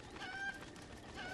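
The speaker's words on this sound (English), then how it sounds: "it's a chicken" A chicken in the Legend of Zelda: Breath of the Wild video game clucks faintly in a few short, high calls over a quiet background hiss.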